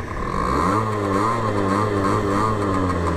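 A motorcycle engine fires up promptly and revs, with a loud, steady mechanical drone rising and falling in pitch close by, no voices over it.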